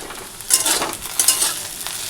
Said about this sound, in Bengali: ভেন্ডি আর আলু ভাজা মোটামুটি হয়ে গেছে